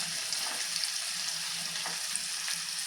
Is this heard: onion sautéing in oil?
yes